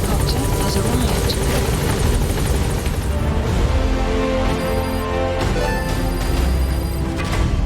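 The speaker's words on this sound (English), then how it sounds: "Support helicopter has arrived." A support helicopter arrives at a landing zone in Metal Gear Solid V: The Phantom Pain, its loud rotor roar and engine whine filling the scene continuously, with faint chiming game tones layered over it.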